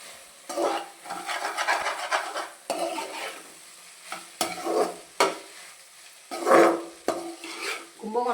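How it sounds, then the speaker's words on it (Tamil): Okra being stirred in oil in a pan for a Kumbakonam-style home dish, with repeated scraping strokes over a steady sizzle, in bursts separated by brief pauses, close and fairly loud. "அதுக்குள்ளேயும் அந்த கேப்பில் வந்து இதை வெண்டைக்காவை கிண்டுறா பாருங்க"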